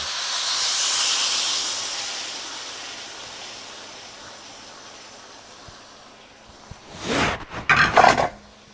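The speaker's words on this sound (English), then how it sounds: "And now let's go ahead and get our sauce in." Sauce poured into a hot pan for pepper steak gives a strong hiss of steam that slowly dies down, followed near the end by a few louder bursts of clattering and sizzling.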